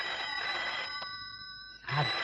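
A telephone rings nearby in two bright, tonal bursts, separated by a short quiet gap, with no one speaking.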